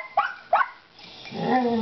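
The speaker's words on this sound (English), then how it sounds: "so she started barking" A dog at a zoo gives two sharp barks in quick succession, close and loud, followed by a lower drawn-out growling whine, with no talking.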